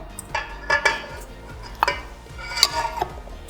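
Sugar, baking powder, baking soda and softened butter going into a mixing bowl for tiramisu cupcakes, with several sharp clinks and taps of spoon against bowl scattered over a quiet background.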